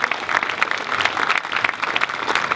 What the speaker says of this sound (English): A round of applause, please, for Jo.